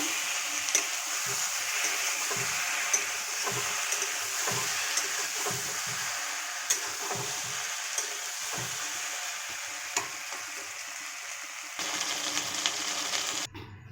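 Chicken pieces fry with spices for chilli chicken, giving a continuous close sizzle broken by sharp regular clicks and scrapes of a spatula against the pan throughout, with no talking.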